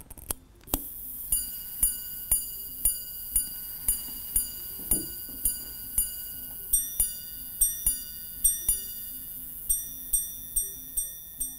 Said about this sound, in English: The next minute repeater we have is from 1924.